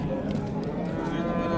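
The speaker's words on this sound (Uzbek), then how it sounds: "Zo'r sigir ekan." Cattle at a busy livestock market in Chiroqchi low in the mix, with a moo-like bellow blurred into a steady crowd murmur and people talking throughout.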